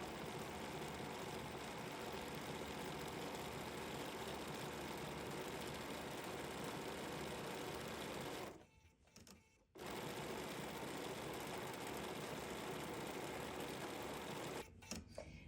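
A sewing machine stitches down fabric tiebacks in a steady, close whir that runs for several seconds, stops briefly, starts again and then ends with a short pause.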